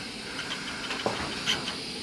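Small English twin steam engine hisses steadily as it builds pressure, a continuous broad airy rush with a few faint clicks and taps, close and alone without talk.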